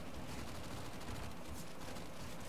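Rapid gunfire from the video game Counter-Strike: Global Offensive, a dense, steady crackle of shots that runs through the whole stretch at moderate level with no clear pauses.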